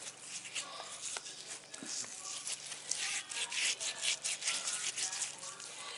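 Gritty hand scrub is rubbed into a man's skin during a manicure, a close, steady scratchy rasping with uneven strokes that grows busier toward the end, no talk.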